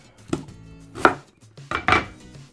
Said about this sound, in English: All right, next up is the onion. So I just cut off the ends,